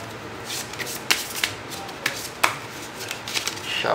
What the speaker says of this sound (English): And shuffle the other cards back.